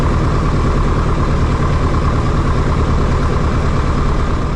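Floatplane engine idling steadily as the aircraft drifts toward a beach, a loud continuous low rumble with no talk, just before shutdown.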